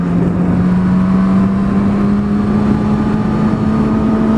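A Kawasaki ZX6R motorcycle engine drones loud and close as the revs climb steadily in one continuous pull, a smooth rising whine with no voices over it.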